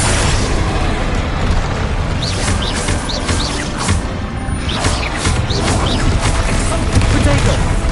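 Confringo and Bombarda spell explosions in the Hogwarts Legacy video game, a loud, steady barrage of booming blasts and bursts amid busy combat noise, with voices over the top.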